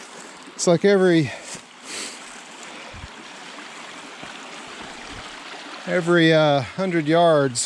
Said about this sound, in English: you're running into a water crossing of some sort.